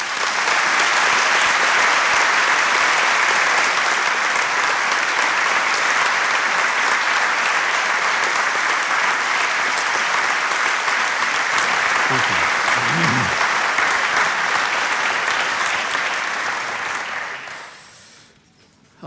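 Sustained audience applause welcoming Dr. Charles Swindoll, chancellor, at a school event for incoming students: dense, steady clapping from a large crowd lasting about seventeen seconds before fading out.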